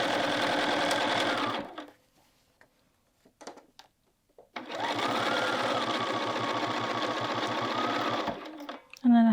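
Sewing machine stitching across a quilted jacket's hood seam, two steady bursts of rapid needle patter separated by a pause with brief handling noises, close and loud.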